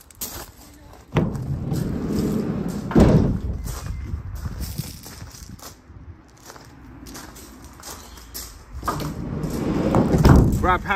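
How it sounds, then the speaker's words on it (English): The sliding side loading door of a Maxus Deliver 9 van rolls and thuds, with clunks and shuffling around it; heavier bangs near the start and end. "Got the side loading door."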